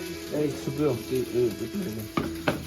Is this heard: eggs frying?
yes